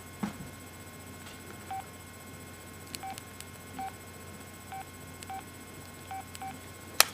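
Keypad tones ring out from a flip phone as its keys are pressed: short electronic beeps come one or two at a time, spaced irregularly over several seconds, fairly clear over a quiet background hiss.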